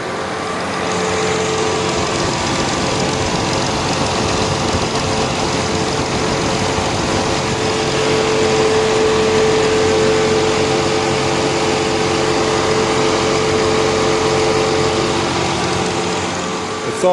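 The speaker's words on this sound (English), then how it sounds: "cooling fan spinning all the time. No matter is the AC on or not, it's always spinning." A constantly running cooling fan on an Audi A6 C8 gives a steady, loud whirring drone that stays even throughout, mixed with a low engine-like hum and no pauses.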